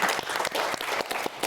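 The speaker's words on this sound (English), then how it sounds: "So let's give applause." An audience at a business forum applauds, a brief burst of dense, fairly faint clapping with no talk over it.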